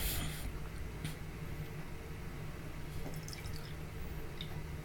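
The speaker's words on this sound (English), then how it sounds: "you're going to pour your milk into this bowl. And do it very carefully so we don't make a mess." Milk is poured carefully into a bowl for a tie-dye milk kitchen experiment, a soft, faint trickle with a few light drips against quiet room noise and no talking.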